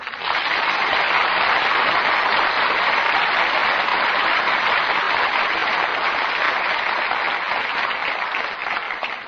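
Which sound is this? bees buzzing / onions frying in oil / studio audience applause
studio audience applause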